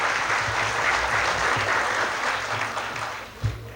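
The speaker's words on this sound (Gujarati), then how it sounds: "બે કપલને જોરદાર તાળીથી વધાવીએ" A lively round of audience applause greets two couples at a Gujarati education event, steady dense clapping sustained throughout with no talk, easing slightly near the end.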